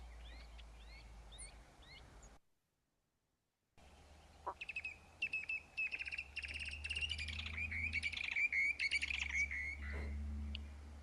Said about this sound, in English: I wanted to let you know, shorebirds sing